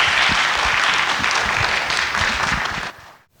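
An audience at a church lecture and letter reading applauds to welcome pastor Lee Dae-hoon, with steady, dense clapping that stops abruptly near the end.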